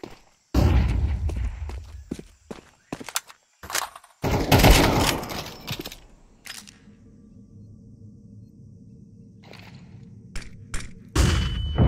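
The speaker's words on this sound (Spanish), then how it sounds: "I'm throwing a flashbang." In a Counter-Strike match, a flashbang grenade goes off amid a burst of loud gunfire and sharp impacts, followed by a sustained ringing drone and more scattered shots.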